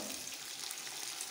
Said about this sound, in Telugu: ఇలా పల్లీలు వేగిన తర్వాత పచ్చిమిర్చిని యాడ్ చేసేసుకోవాలి.